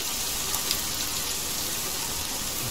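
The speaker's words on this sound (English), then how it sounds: "Quite some heavy rain." Heavy rain in the video game The Forest, an even, continuous hiss of downpour with no pauses and no one talking.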